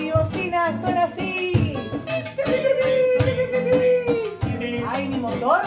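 A performer at a children's reading festival in Trelew imitates a car horn with a long held vocal tone over a bouncy musical accompaniment with percussion.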